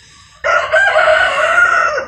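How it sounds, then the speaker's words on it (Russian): A rooster crows from behind a wall once after a brief quiet moment, a loud, drawn-out call lasting over a second, fairly close. "петушок уже проснулся, кукарекает за стенкой"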